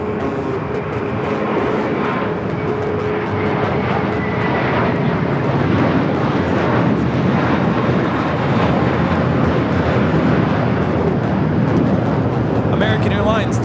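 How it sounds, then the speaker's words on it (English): Alaska Airlines Boeing 737 MAX 9 arriving at Los Angeles International Airport, a steady, loud jet engine roar and rush sustained throughout as the airliner passes close by, with a faint tonal whine riding on the broadband noise. "This arrival is Alaska Airlines 1335 coming in from Belize City on the MAX 9."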